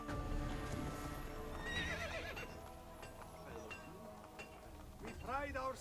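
A horse in the Assassin's Creed video game whinnies loudly and then neighs again near the end, with hoofbeats clopping in between and game sounds and voices underneath.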